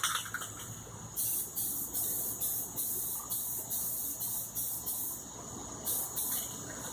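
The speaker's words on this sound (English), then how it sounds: "We're gonna go ahead and start spraying the clear." Bursts of spray hiss from an aerosol can of clear coat, about ten short pulses in a steady rhythm, close and fairly loud over a constant background hum.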